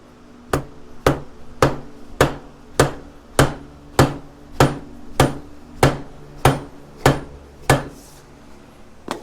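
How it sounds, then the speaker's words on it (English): Dead blow hammer pounding a 2003 Polaris Sportsman 700 axle part, about sixteen evenly spaced heavy thuds roughly every half second, close and steady throughout. "I'm going to use a nice dead blow and just, I guess, have at it."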